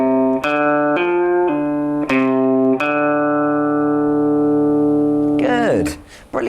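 A short guitar riff of clearly picked notes with hammer-ons and pull-offs giving smooth legato pitch changes between some, ending in a bending, sliding sound.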